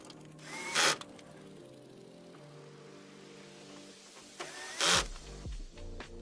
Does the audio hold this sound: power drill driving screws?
yes